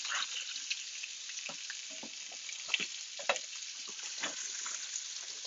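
Arancini frying in butter in a pan, a steady close hiss and crackle with small popping spatters throughout, no voices over it.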